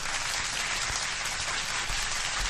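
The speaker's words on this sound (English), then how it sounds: "A round of applause." Dense, steady applause from the members of a live fight prediction show audience, loud and continuous for a few seconds with no pause.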